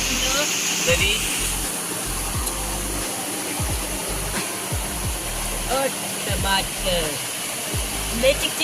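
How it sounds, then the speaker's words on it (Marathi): Water rushes and splashes continuously at close range, a steady broadband roar with a motor-like hum and occasional voices underneath. "इकडे बघा खाली भालीचं पाणी खाली जातं"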